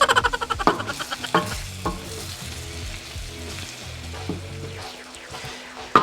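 Chicken thigh frying in a pan for chicken pastil and being stirred, with a steady close sizzle. A quick run of spatula scrapes opens it, and a few more knocks and stirs follow over the constant hiss.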